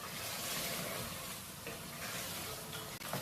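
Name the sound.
mixing sizzling meat curry with peas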